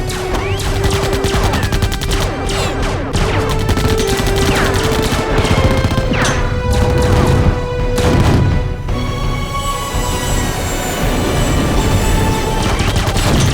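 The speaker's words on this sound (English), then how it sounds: "There's gonna be a lot of explosions coming off." Sci-fi movie battle with rapid, dense bursts of blasts and gunfire-like cracks, loud and close, continuing in ragged volleys with crashing impacts throughout.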